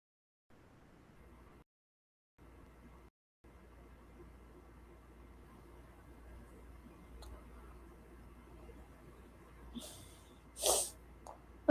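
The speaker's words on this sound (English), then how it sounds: "I do apologize about my sniffling." After a long stretch of faint room hiss, a person with allergies gives a brief, breathy sniff and then a sharper, louder sniffle close by near the end.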